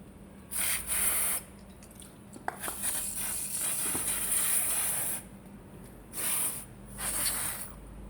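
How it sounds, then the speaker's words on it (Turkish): Several short bursts of aerosol brake cleaner spray hiss, close by, on the brake pads of a three-wheeled electric motorbike, separated by brief pauses, with faint clicks between them. "balata sprey ile bir temizleyeceğiz"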